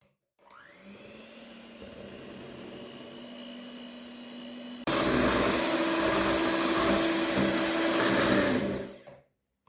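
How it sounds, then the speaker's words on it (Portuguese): A stand mixer beats cake batter of mashed ricotta and three whole eggs, its steady motor whine jumping louder to a higher speed midway before cutting off, with no talk. "E vou bater na batedeira por mais um minuto."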